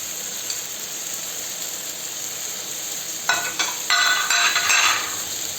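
Frozen shrimp dropped into a hot paella pan with chicken and seafood, a steady low hiss that flares into loud crackling sizzle bursts for a couple of seconds.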